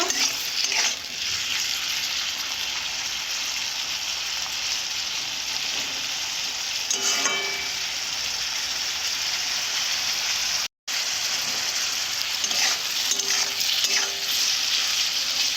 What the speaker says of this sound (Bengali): এরপর টমেটো দেব তার সঙ্গে পেঁয়াজ দেব এইভাবে ভালো করে কষে নেব